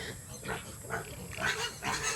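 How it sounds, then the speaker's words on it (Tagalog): Several small grunts and squeals from free-range piglets on a farm come in short irregular bursts, fairly quiet and close. "Ayan yung mga biik dyan."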